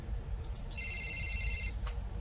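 A mobile phone rings at a gas station with a short electronic trill of high, warbling tones lasting under a second over a low background hum, followed by a brief faint blip.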